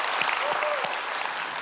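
Congregation at a Sunday church service gives a short burst of loud, dense applause, with a voice briefly heard over the clapping.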